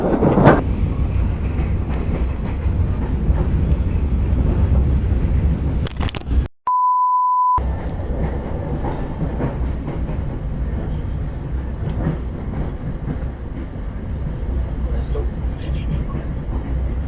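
The Mutiara Timur passenger train, heard from an economy-class carriage, rolls on with a loud, steady rumble and rattling wheel noise. A short electronic beep breaks in partway through, and a voice talks faintly underneath.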